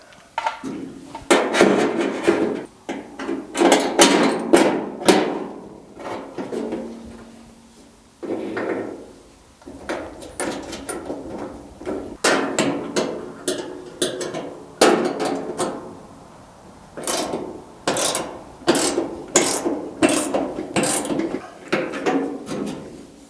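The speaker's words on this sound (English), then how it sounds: "put a nut on there, and just drive it in" A hammer drives a nut into a steel car door panel of a GTO restomod to press a dent. Repeated loud, ringing metallic blows come in uneven bursts, with short pauses between them.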